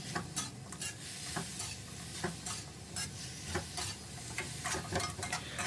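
Crispy pork is tossed with Chinese kale in a pan on a gas stove, with rhythmic spatula scrapes and clacks repeating every half second or so over a steady sizzle.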